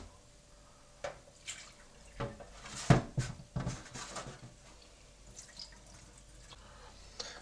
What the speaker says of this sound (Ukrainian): Зливаємо воду.